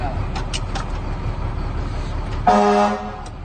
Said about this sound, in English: It has high quality air horns.